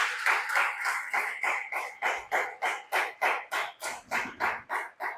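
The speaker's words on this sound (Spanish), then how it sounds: "Demos un aplauso de bienvenida a todos los que nos ven." A church congregation claps in unison for a welcome, about three sharp, even beats per second repeating steadily with no talking.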